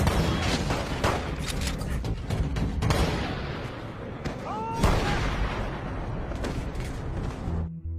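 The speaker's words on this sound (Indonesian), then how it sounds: "Maka terjadilah kejar-kejaran dan baku tembak antara mereka." Gunfire and booming impacts in a chase-and-shootout scene from the 2016 film Term Life, a loud burst of shots and blasts with a whistling streak in the middle, mixed under a narrating voice.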